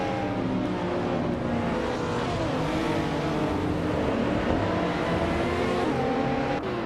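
Modern 2017 Kia Stinger race cars lapping Brands Hatch GP in a racing game, a dense continuous roar of several engines revving and shifting together, loud and close with no pauses.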